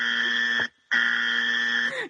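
An electronic buzzer gives two loud, harsh, steady tones close by, the first short and the second longer, separated by a brief gap.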